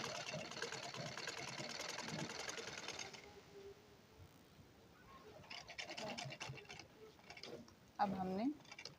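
A sewing machine stitches a lined blouse, giving a quiet rapid mechanical whirr for about three seconds, then stops while a person speaks over soft handling noises.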